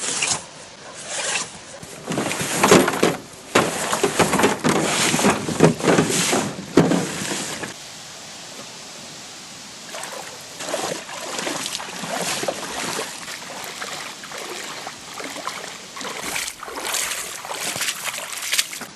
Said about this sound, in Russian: Сейчас придется, как летом, выталкивать на реку лодку и там грузиться